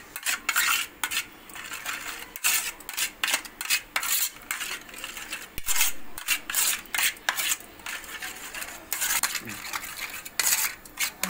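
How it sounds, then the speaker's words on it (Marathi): A spoon scrapes and clinks against a metal bowl while tandoori masala is mixed with turmeric and salt, giving busy, irregular close-up rattling and scraping strokes with no talking. "आता हे आपण चांगलं मिक्स करून घेऊया"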